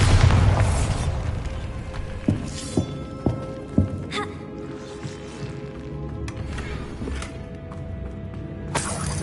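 Bombarda explosion spell in the Hogwarts Legacy video game: a heavy booming blast opens, followed by several sharp cracking impacts and debris clatter, then a fading rumbling tail with one more burst near the end.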